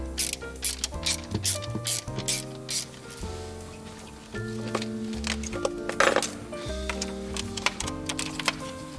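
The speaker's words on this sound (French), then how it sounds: "Déposez le support de filtre à gazole maintenu par 3 vis." A ratchet tool takes out the screws holding the diesel filter bracket on a 1.4 HDi DV4TD engine, making rapid, loud, close metallic clicking in bursts with brief pauses, and no voice.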